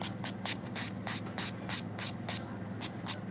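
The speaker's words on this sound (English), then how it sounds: "But I'm just gonna give it a little buff." Repeated short scratchy strokes of a buffer across acrylic press-on nails, a quick, fairly even rhythm of close, soft rasping bursts with no talk.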